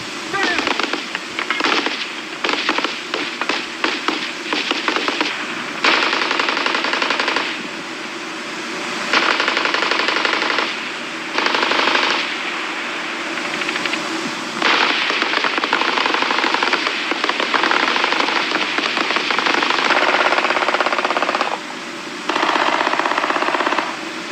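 Infantry small arms fire in bursts at falling plate targets during a military weapons demonstration outdoors, with a steady run of loud shots and short pauses between strings of fire.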